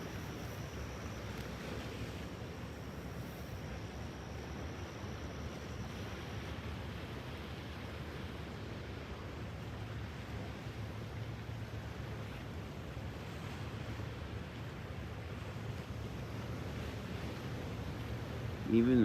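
Ocean surf rolls in a steady, broad low wash, distant and unbroken, with a faint breeze over the shoreline.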